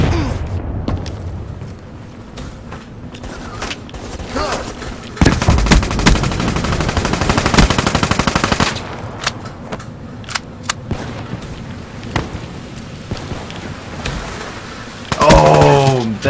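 Weevil gun firing in Black Ops 3, with loud sustained automatic bursts and scattered single shots during a Search and Destroy match, and a player talking over the action.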